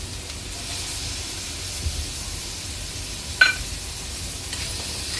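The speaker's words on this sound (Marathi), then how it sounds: "कांदा टोमॅटो चांगलं 3 ते 4 मिनिटं परतून घेणार आहे" Chopped onion and tomato sauté in hot oil in a pan for a dried prawn (kolambi) masala, giving a steady, even sizzle throughout with one brief utensil clink partway through and no talking.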